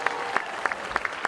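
An audience at a city mayor's State of the City address in Memphis claps in a brief burst of applause, with sharp individual claps standing out over a dense crowd.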